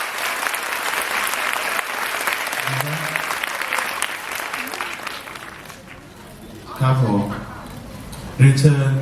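Applause from the audience at a Thai donation ceremony for a hospital, dense clapping that fades after about six seconds, followed by someone speaking over the last scattered claps.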